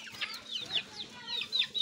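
Domestic country chickens clucking in a small cage, several birds giving short overlapping clucks and chirps close by, with a faint low background hum.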